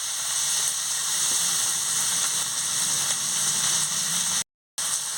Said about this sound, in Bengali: এবার আমি পেঁয়াজ কুচিটা দিয়ে দিচ্ছি। ভেজে নিচ্ছি। টমেটো কুচি দিয়ে দিচ্ছি।